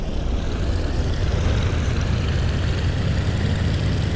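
An aircraft engine in IL-2 1946 roars steadily at loud, close range as the throttle opens, a dense continuous drone with propeller hum that holds throughout.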